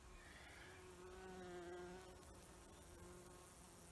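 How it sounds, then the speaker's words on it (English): A bee buzzes close by outdoors during firewood processing, a faint wavering drone that rises and falls in pitch as it hovers and circles. "there's a bee thinking we had a flower."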